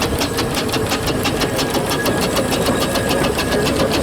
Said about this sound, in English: This engine coming in now backwards.